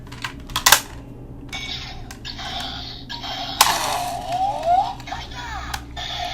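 Loud, grinding gear mechanism of a toy transformation key from a Memorial GokaiCellular set, sounding in bursts of clicking and whirring with a sharp rise near the middle; a person talks over parts of it.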